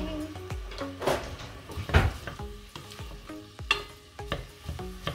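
Chili ingredients sauté in a pan over low-medium heat, with a steady sizzle broken by several scraping stirs of a utensil against the pan, close and fairly loud, with a voice briefly speaking.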